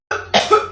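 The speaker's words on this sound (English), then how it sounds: "Dude, I am tired of hearing you cough." A person coughs twice in quick succession, close and fairly loud, a short harsh burst followed by a second rougher cough, with no speech around it.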